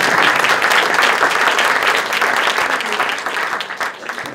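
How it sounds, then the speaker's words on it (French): Audience applause fills a short film awards ceremony, a dense, steady wash of clapping from a crowd that carries on loudly for several seconds before thinning slightly at the end. "On peut nous applaudir."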